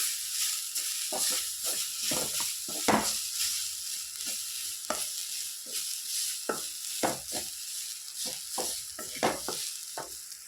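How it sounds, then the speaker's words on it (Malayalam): A steady sizzle of coconut dry-roasting in a hot pan, broken by frequent scraping and stirring strokes, close and continuous with no talking. "തേങ്ങയും ഇതേപോലെ ഒന്ന് നല്ലോണം ഒന്ന് വറുത്തെടുക്കാം"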